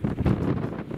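Gusty wind buffets the microphone on an exposed Lake District hillside, a steady low roar with swelling surges and no voices.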